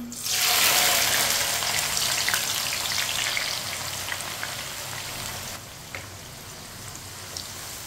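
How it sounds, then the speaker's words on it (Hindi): Chana dal dropped into hot oil for namkeen, giving a loud, close, steady sizzle and crackle that stays constant throughout and eases off slightly partway through. "दाल को इसी तरह चम्मच चलाते हुए फ्राई कर लेंगे।"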